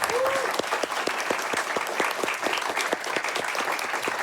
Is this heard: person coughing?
no